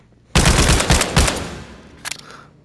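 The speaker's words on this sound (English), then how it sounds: "the Devil's Paintbrush, which is an upgraded Warren SMG" The Devil's Paintbrush, an upgraded Warren SMG, fires in The Walking Dead: Saints & Sinners, a loud, rapid burst of close shots lasting about a second, then a quick short second burst after a brief pause.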